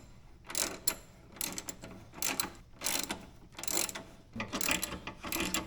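A ratchet tightens the shock bolts on a Harley in a metal building, sounding as rapid clicking bursts in a repeated stroke-and-pause rhythm, close and fairly crisp.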